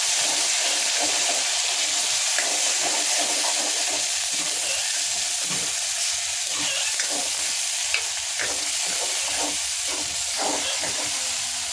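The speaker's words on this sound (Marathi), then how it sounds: "तर आता इथे आमचा मसाला भाजून झालेला आहे" Ground masala paste with tomato roasting in a pan: a loud, steady hiss and sizzle of frying that runs unbroken throughout, with faint stirring scrapes underneath.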